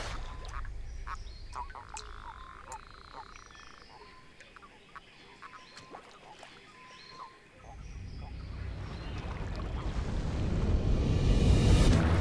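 A bullfrog croaks in a dark underground habitat, with low rumbling calls and scattered sharp clicks and chirps over a busy background, and a louder rushing wash building toward the end.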